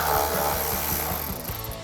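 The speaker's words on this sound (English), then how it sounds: "Grab a ratchet and socket and take that out." A ratchet and socket back out a 10mm bolt behind a pulled-back wheel liner on a Jeep Wrangler JL, a fast, even train of loud close pawl clicks running without a break.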